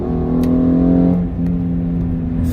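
Hyundai Genesis Coupe fitted with an Injen intake revving at high RPM, a steady droning engine tone that shifts pitch partway through, heard up close with no talk.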